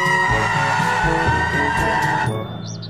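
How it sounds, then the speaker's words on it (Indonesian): A loud electronic toy siren wails steadily with a pulsing rhythm, close up, then cuts off abruptly near the end. "Yang ini ada mobil pemadam kebakaran."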